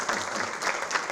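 An audience at a film club screening bursts into dense, continuous applause, a close, lively wash of many hands clapping throughout the short moment.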